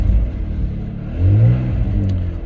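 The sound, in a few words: MG ZT 190 car engine revving, slight exhaust blow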